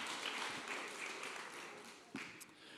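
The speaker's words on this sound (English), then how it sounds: "And Amy, give them another round of applause." Applause from a community event audience, fairly quiet and distant, a steady wash of clapping across the whole stretch with a single sharper tap near the end.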